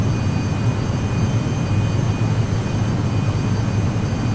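The jet engines of an SR-71 Blackbird in a flight simulator roar steadily at about 90% N1 takeoff power without afterburner, a loud, continuous broadband rumble with no breaks.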